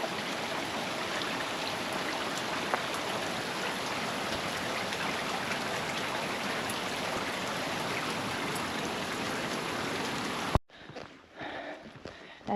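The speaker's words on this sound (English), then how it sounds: "But look at that crazy rain." Heavy rain pouring steadily in a dense, even roar in Sweden, then cutting off abruptly near the end, leaving quieter scattered sounds.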